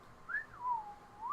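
A voice imitating a slide whistle: a short solo whistle sliding up, then down, then back up, clear and close in a quiet setting.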